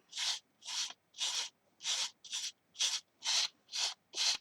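Fingers rub stencil flitter glue and flakes off a surface by hand in about nine brisk, even strokes, each a close, dry, hissing scrub with short pauses between, alone without voices.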